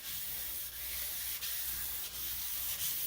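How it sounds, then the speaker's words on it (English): Waterproof sandpaper on a flat block rubs rust off a cast-iron table saw top in steady back-and-forth strokes, a close, hissing scrape that pauses briefly at each change of stroke. "I start sanding with the direction of feed."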